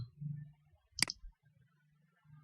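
A single sharp computer mouse click stands out against quiet background hum, brief and close, with faint low murmur before and after.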